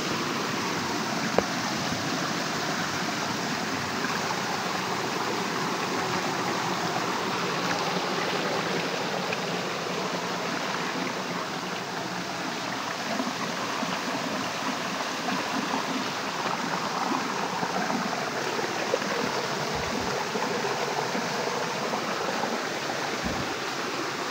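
A creek runs along without a break, its water rushing and hissing steadily close by, with no talking.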